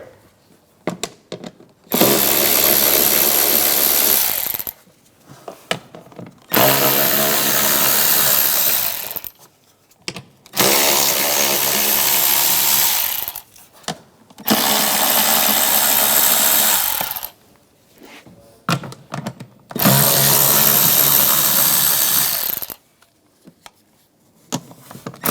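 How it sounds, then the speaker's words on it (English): A power tool with an 8mm socket removes cover bolts on a 2009-2013 BMW 328i xDrive 3.0L I6, running in five loud, close bursts of steady whirring of about three seconds each, separated by short pauses with light clinks. "We're going to remove this cover, use an 8mm socket"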